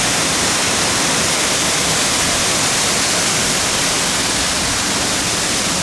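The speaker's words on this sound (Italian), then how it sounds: "cascata di Masarè" The Masarè waterfall above Alleghe in the Dolomites roars in a loud, unbroken rush of falling water, close and steady throughout.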